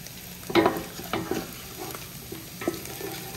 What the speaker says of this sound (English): You hear it frying?